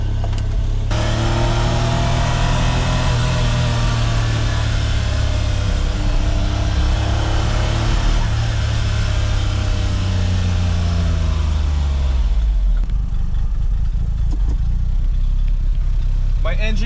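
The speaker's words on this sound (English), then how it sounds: "I am still in the keisport ECU, so the idle's going to be a little rough" A Suzuki Cara's DOHC F6A engine, on a keisport ECU and running with the engine hatch open, idles loud and uneven, its low rumble wavering before the revs drop toward the end; a voice talks over it.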